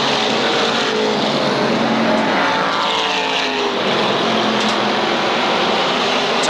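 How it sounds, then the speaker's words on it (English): SK Modified race cars roar nose to tail down the backstretch into turn three at Waterford Speedbowl, a loud continuous pack of engines with rising and fading pitch as cars pass, no talk. "Top 10 cars working nose to tail down the backstretch into turn number 3."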